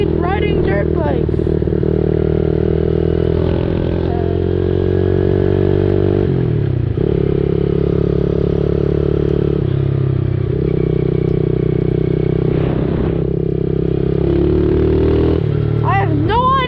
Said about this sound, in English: Riding dirt bikes.